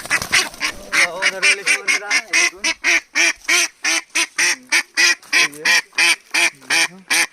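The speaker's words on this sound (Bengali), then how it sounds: "হাঁসটা ডাকছে" A domestic duck is caught and quacks loudly up close, a rapid run of harsh, evenly spaced honking calls that continues without a break.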